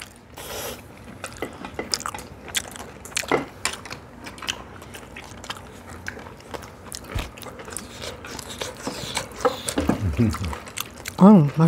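Someone eating rice with clams at a home table, with soft wet chewing and biting sounds, small clicks and drips scattered through a quiet room, a little louder near the end.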